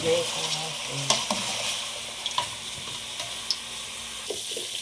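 Food sautés in a pan for lunch, with a steady sizzle of frying under repeated clicks and scrapes from stirring.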